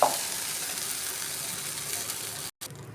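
A steady, bright sizzle of beetroot uttapam batter frying in butter on a hot griddle continues without a break, then briefly cuts out near the end.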